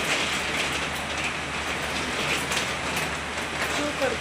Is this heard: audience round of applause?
no